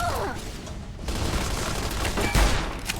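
Repeater rifle gunfire in Fallout: New Vegas, a few sharp shots and booms scattered through a dense, noisy game battle soundscape, moderately loud.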